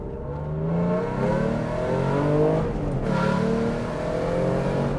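A car engine revs up and down close by, rising and falling in pitch through several throttle blips, loud and unaccompanied by voices.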